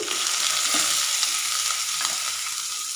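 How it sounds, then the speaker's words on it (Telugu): Onion, green chilli, garlic, chana dal and ridge gourd peel fry together in hot oil, making a close, steady hiss and sizzle with a few soft stirring scrapes and no voices. "ఒకేసారి వేసుకొని మొత్తాన్ని ఇట్లా ఫ్రై చేసుకుందాం"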